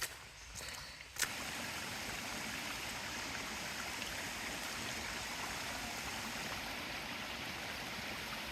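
Steady broadband rush of creek water flowing along a creek in the Sipsey Wilderness, continuous and fairly close, with a brief rustle near the start and no talk.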